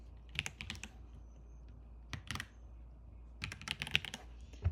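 Bursts of typing on a computer keyboard, three short clusters of quick clicks separated by quiet pauses, close and fairly soft, entering a password while registering a new account.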